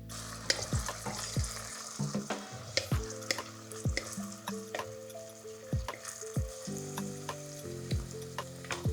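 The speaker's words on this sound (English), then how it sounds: "We're frying the onions" Onions sizzle and fry in hot oil in a pot over medium heat while being stirred, with repeated scraping clinks of a utensil against the pot, no voices.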